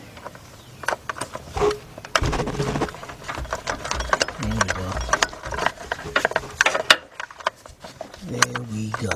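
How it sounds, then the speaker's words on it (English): A quarter-inch drive ratchet with an 8mm deep socket works a bolt on a Chrysler engine during timing belt and radiator work, giving rapid clicking bursts of pawl ratcheting close up, with someone talking between strokes. "So let's get our 1/4" drive ratchet."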